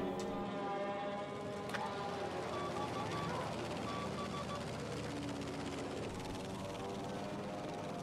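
Aircraft engines in a video game drone overhead with a steady, layered propeller hum that holds constant and loud for the whole stretch, punctuated by a couple of brief sharp clicks.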